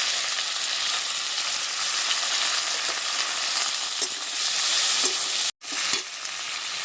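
Chopped onion, tomato and green chili hiss loudly in hot oil with whole cumin, a dense continuous sizzle with faint stirring, cut by a brief dropout near the end.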